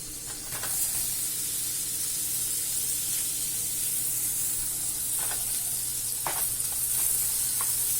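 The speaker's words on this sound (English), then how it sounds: "We'll shallow fry these paneer cubes." Paneer cubes shallow frying in butter give a steady close sizzle and hiss throughout, with a few soft clicks as the pieces are moved.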